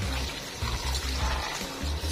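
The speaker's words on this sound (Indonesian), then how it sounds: "cuci bersih-bersih ya, karena ini bertujuan untuk menghilangkan semua ampas dari sisa dempul, dan siram dengan air." Water is poured and splashed steadily to rinse putty filler residue from a carbon-dipped air rifle part during water transfer printing, a continuous close splashing with rhythmic pulses.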